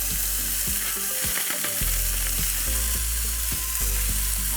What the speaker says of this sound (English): These are gonna come right out of the freezer and into the pan